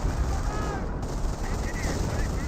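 Gunfire in the Company of Heroes video game, a steady rattle of shots and battle noise close by with no pauses.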